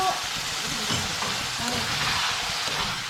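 Prawns fry in a hot pan with a loud, steady crackling sizzle close by, broken by soft stirring movements, with no voices.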